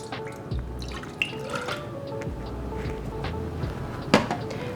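Milk is poured into a bowl as the custard base for Portuguese custard tarts (pastel de nata), a soft, steady liquid trickle with light drips and faint kitchen clatter, close by.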